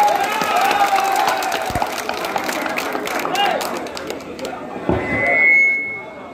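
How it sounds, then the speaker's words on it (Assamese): Audience applause and cheering welcome a new party member at a BJP rally in Mandakata, Jalukbari, with steady clapping from the crowd throughout and a brief surge near the end. "তেওঁক আদৰণি জনাবলৈ এটি হাত চাপৰি দিয়াৰ কাৰণে মই প্ৰয়োজন অনুভৱ কৰিছোঁ"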